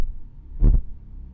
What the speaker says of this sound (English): There was music in the form of a slow, steady drum sound resembling a heartbeat.